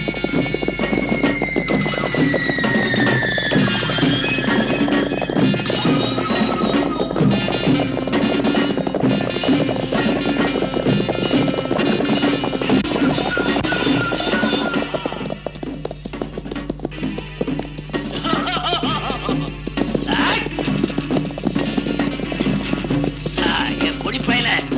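Horse hooves trampling in a Tamil action thriller film fight scene, a dense continuous clatter of hooves mixed with loud action music and effects throughout.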